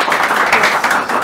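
A studio audience claps for a taekwondo Olympian in a short, steady burst of applause at close range.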